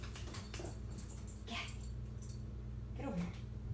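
A puppy chewing its bed gives a few faint, high whimpers and yips over a low background hum, with soft rustling between the cries.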